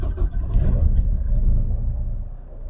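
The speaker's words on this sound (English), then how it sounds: "engine on." A truck's diesel engine turns over and settles into a steady, deep idle, a continuous low rumble that stays close and fairly loud throughout, with no voices.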